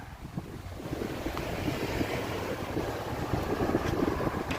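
Strong gusts of wind buffet the microphone on the Las Vegas Strip at night, a steady rushing roar with no voices.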